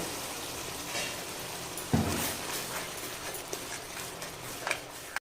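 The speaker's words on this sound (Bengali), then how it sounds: "সামান্য জল দিয়ে খুব ভালো করে কষাবো" Spice paste for a hotel-style rohu fish curry being sautéed with a little water in a pan, a moderate steady sizzle with a sharp spatula clack and scattered light scraping taps.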